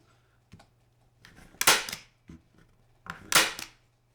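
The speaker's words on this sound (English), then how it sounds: "So now we can start stapling the canvas onto the framework" Staple gun driving staples through canvas into a wooden stretcher frame, two sharp, close snaps with small handling clicks and rustles between them in a quiet room.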